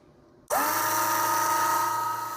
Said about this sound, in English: I kind of let it just sit and eat the tire for a minute because it puts a finer cut on it